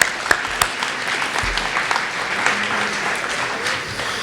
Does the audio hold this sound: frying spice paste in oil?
no